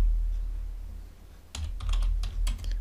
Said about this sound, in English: I'm going to type system